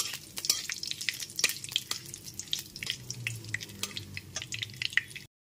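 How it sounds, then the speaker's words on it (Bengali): Bay leaf, dried chilli and five-spice tempering frying gently in oil over a low gas flame, with a steady close crackle and sizzle broken by sharper pops and a few stirring scrapes. "গ্যাসের ফ্লেমটা একদম লোতে রেখে ফোড়নটা হালকা করে ভেজে নেব"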